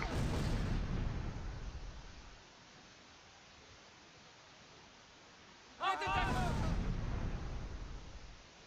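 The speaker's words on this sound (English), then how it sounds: "I think that's that's pretty good damage from that mortar round" A mortar round explodes in the Close Combat: Last Stand Arnhem war game: a loud broadband blast rumbles and fades, then a second heavy boom hits near the end as a voice talks over it.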